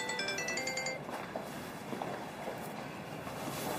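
A phone rings with a short repeating electronic melody at the start, then fades into a low, steady background hum with no one speaking.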